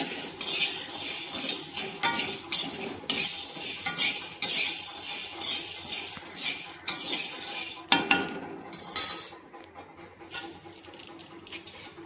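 Sago pearls (sabudana) are dry-roasted in a pan while being stirred, with a steady scrape and rustle of the pearls and occasional clinks of the spoon against the pan. The sound runs continuously, close and moderately loud, with no one talking.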